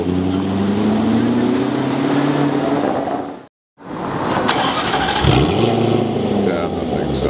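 A Nissan Skyline engine, one of a limited run at a street car meet, revs loudly and continuously, with a brief cut of silence midway before the engine roar resumes, and voices are heard nearby.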